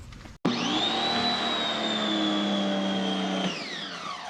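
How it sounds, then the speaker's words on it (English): A SunJoe electric pressure washer switches on abruptly and runs with a loud, steady motor whine that drops in pitch near the end. "Let me turn the pressure washer on."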